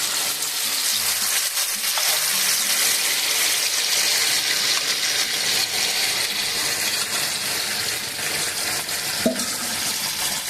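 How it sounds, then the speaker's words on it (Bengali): Paneer is stirred into chana masala in a pan, with a continuous moist sizzle and wet stirring and scraping, plus an occasional metallic clink, close and steady with no talk. "এবার আমি দেখুন পনিরের সাথে চানা মশলা মিশিয়ে দিচ্ছি"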